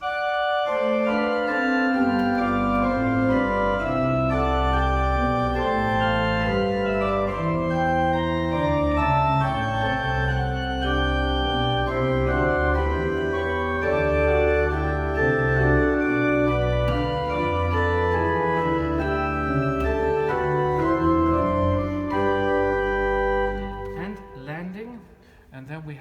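Pipe organ, the 1806 Schiörlin organ in Gammalkil, playing Mendelssohn: a full, sustained passage with a deep pedal bass line moving underneath the upper voices, continuous and loud before fading out at the end.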